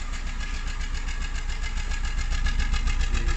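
A 2002 Ford Ka 1.3 engine idles roughly with a misfire, a close, loud, steady juddering pulse with uneven knocking.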